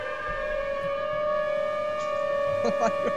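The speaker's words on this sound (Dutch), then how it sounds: "Oh, de sirene gaat af." A civil defense siren wails steadily in Minecraft, a sustained tone holding throughout with faint game sounds and brief voices near the end.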